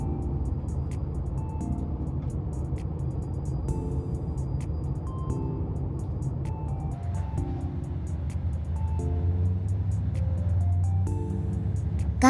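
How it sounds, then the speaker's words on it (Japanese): A JR Kiha 47 diesel railcar running, its engine producing a steady low rumble with shifting tonal hums, heard from aboard the train as the drone deepens and swells toward the end. "頑張って走っているキハ47はとても素敵ですよね"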